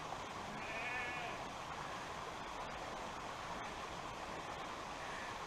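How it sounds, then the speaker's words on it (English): Sheep bleat faintly out in a pasture along a mountain bike trail, a short wavering call standing out near the start over steady wind and rushing outdoor noise that continues throughout. "to hear the sheep"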